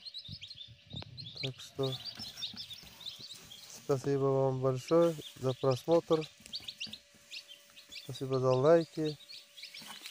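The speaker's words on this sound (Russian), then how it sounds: "Вот это какой-то странный порода, большой, здоровый цыплята." Young chicks of a large mixed breed chirp in high, rapid peeps throughout, while someone talks over them in Russian in several bursts.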